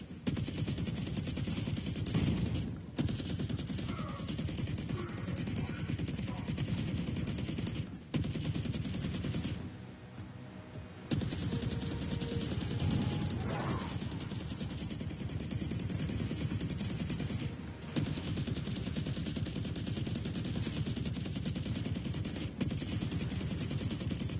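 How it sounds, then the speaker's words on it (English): Sustained rapid gunfire from a weapon in the VR game Warhammer: Battle Sister fills nearly the whole stretch, loud and dense, broken only by a few brief pauses. "Every shot of this gun feels really, really impactful."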